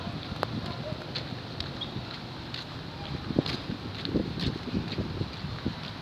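Gusty wind buffets the microphone with a low rumble, mixed with scattered clicks and knocks outdoors on Bantayan Island, Cebu.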